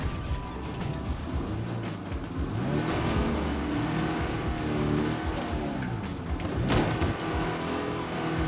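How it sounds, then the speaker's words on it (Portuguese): A car in a zombie apocalypse video game drives and revs with a mid-pitched engine whine that rises and falls, ending in a short crash as it flips over, with no talk. "mesmo lugar pra capotar o carro."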